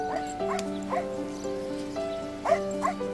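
A dog gives several short, sharp barks spaced irregularly over a steady droning tone in the background, moderately close.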